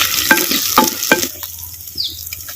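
Curry leaves, garlic and shallots hit hot groundnut oil for a Chettinad dish, giving three sharp sputtering bursts up close, then a softer sizzle with light pops.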